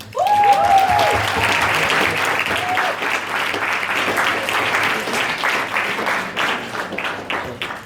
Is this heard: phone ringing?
no